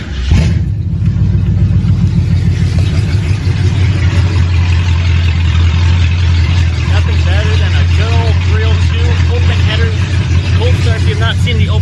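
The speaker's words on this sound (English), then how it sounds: "Let's do a little cold start" Shelby 1000 with open headers and a supercharger on a cold start, settling into a loud, deep, rumbling idle that stays close and steady throughout.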